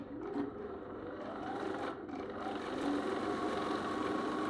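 A sewing machine runs steadily while stitching a quilt block along a marked line, producing a continuous close whirring hum with slight pauses and no talk.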